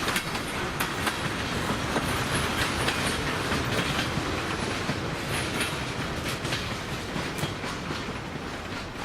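A freight train rumbles past close by at Depew Station in Buffalo, wheels clicking rhythmically over rail joints in a steady clickety-clack beneath a continuous roar.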